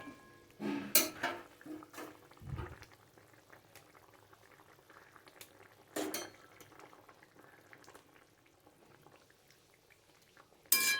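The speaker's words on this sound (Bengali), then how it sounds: "দেখো বন্ধুরা ঝোলটা তো খুব সুন্দর ফুটছে" A pot of fish curry with drumsticks bubbles quietly and steadily at close range, with occasional clinks of a metal spoon against the pot.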